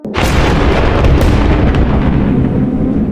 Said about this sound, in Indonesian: Makhluk itu meledak jadi abu.